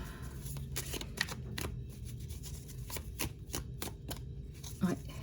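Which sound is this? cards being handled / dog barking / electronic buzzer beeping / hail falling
cards being handled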